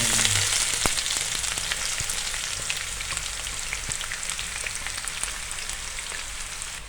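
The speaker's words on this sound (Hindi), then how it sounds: "गोल्डन ब्राउन होने तक हम इसको फ्राई करेंगे" Food fries in hot ghee toward golden brown, a steady, close crackling sizzle with fine popping that stays constant and slowly eases off, with no voices.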